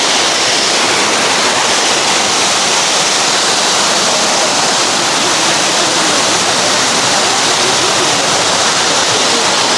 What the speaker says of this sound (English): Of course, it's not like a natural waterfall, but still, this is something to see